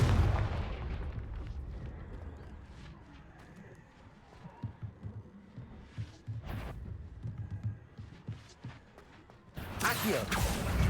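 Fire-blast spell explosions in Hogwarts Legacy, with a series of booming bursts and crackling impacts spread through the scene, separated by quieter rumbling gaps and ending in a loud blast.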